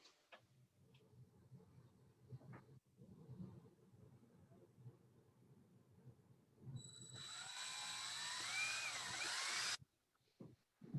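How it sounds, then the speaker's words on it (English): A power drill driving a screw whines steadily for a few seconds, high-pitched and close, after a stretch of quiet handling noise, then stops abruptly. "everybody's jealous because they hear that drill"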